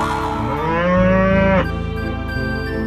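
A cartoon cow gives a long, loud, close moo that swells and then breaks off, with a wobbling pitch and strong harmonics, heard over a steady mechanical drone with no talking.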